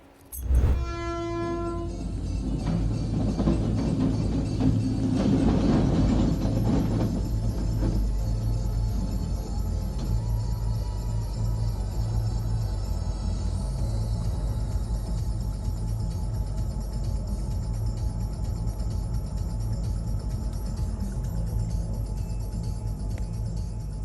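A train hauling military trucks rolls past on the rails: a loud horn blast at the start gives way to a long, steady rumble of wheels and rattling railcars close by.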